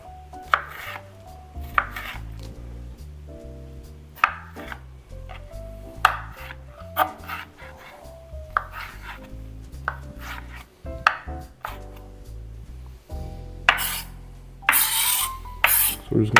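A knife chops repeatedly on a cutting board while vegetables are quartered for an Italian pasta salad, producing crisp, close, irregular knocks. Dish and utensil clatter comes in near the end.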